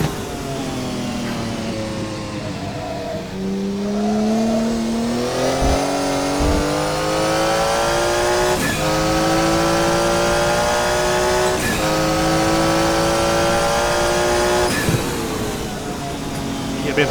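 A Porsche 956 Group C race car in a racing simulator roars loud and close, its engine pitch climbing through the gears in stepped rises and holding a sustained high drone between shifts.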